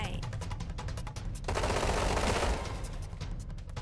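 Roblox Combat Arena battle gunfire: steady rapid shots crackle throughout, peaking in a thick, loud volley midway before thinning back to quicker single cracks.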